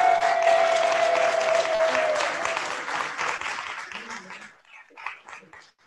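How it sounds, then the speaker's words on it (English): A crowd applauds loudly, with cheering voices mixed in, and the clapping gradually thins out and fades away. "Let's give ourselves an amazing round of applause."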